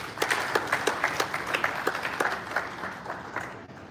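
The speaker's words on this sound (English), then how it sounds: "Please give him another round of applause." Audience applause at a petroleum industry conference, a dense steady clapping with distinct individual claps standing out, fairly loud and sustained before tapering off at the end.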